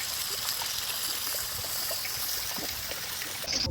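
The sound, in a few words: water poured over fish in curry pan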